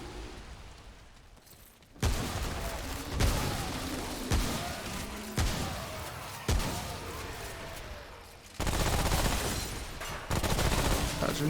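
Shotgun blasts boom in the game Remnant: From the Ashes on Hell mode, five or six loud, sharp reports spaced a second or two apart over constant battle noise.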